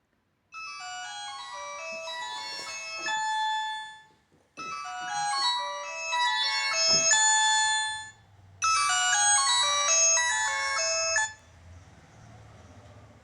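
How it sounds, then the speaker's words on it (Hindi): A mobile phone ringtone plays a bright, chiming melody in three loud bursts separated by short pauses, with a low hum underneath toward the end. "सॉरी, फोन आ गई थी"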